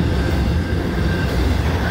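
Freight train cars rolling past on the railway, a loud continuous low rumble close by with steady wheel and rail noise.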